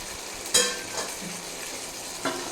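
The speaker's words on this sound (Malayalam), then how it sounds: "നല്ലോണം ഇളക്കി കൊടുക്കുക." Chicken dry with fresh coriander leaves is stirred in a frying pan, giving a soft, short sizzle broken by two quick utensil clinks against the pan.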